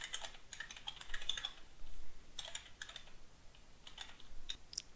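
A password being entered on a computer keyboard: crisp, close keystrokes in quick uneven runs with short gaps, alone and fairly clear.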